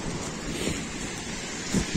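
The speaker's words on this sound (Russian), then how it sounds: "видно, что море, шторм, Аркипка." Stormy sea at the Black Sea coast of Arkhipo-Osipovka, with waves surging and heavy wind buffeting the microphone in a constant roar, a couple of louder thumps near the end.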